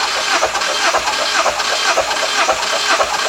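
A Mazda MX5 engine being cranked by the starter during a compression test, a steady rhythmic whirring churn with regular pulses, loud and close, running without starting for the whole stretch.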